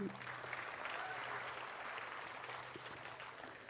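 Audience clapping at a Hindi comedy poetry show held for Holi, a steady wash of applause from a crowd at moderate distance, continuous throughout with a faint voice at the start.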